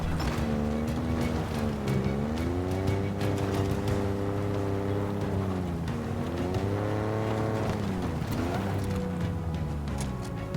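A vehicle engine in Halo Infinite, a steady loud drone that rises and falls in pitch as the vehicle speeds up and slows, with scattered game noises over it.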